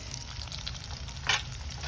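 Cumin and onion frying in oil with garlic for a flower chutney, a low, steady sizzle with light stirring taps and one brief sharper clink near the end.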